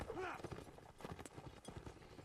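A knight's horse gallops in Mount and Blade Warband during a line battle between Nords and Sarranids, steady hoofbeats up close beneath a commentator's voice.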